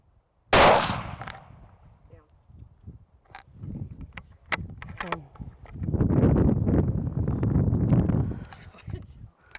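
A single sharp rifle shot rings out during a hunt, loud and sudden at the start, followed by rustling, wind buffeting and quiet background voices outdoors.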